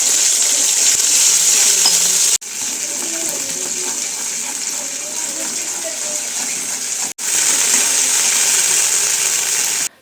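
Spices tempering in hot oil for a snack like dhokla, a loud continuous hiss and sizzle with two abrupt cuts where the sound briefly drops before resuming.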